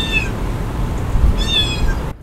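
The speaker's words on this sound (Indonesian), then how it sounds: "Salah satu contoh itu adalah suara kayak kucing" Two clear cat meows played from the external speaker of a 2025 Zeekr X electric car, one short and one longer, separated by a pause over a low steady background rumble.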